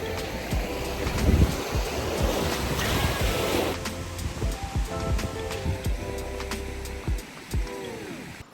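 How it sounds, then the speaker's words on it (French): A stormy sea whipped by strong wind, with loud surf crashing and churning in the first half, then easing into gusty, intermittent rushes of wind and water. "c'est la tempête dehors. Vraiment, genre la mer est déchaînée, il y a du vent"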